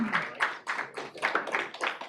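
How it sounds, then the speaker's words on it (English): An audience at a holiday band event claps, a small group giving a short round of applause in rhythmic bursts of hand claps, fairly close and moderately loud. "Round of applause."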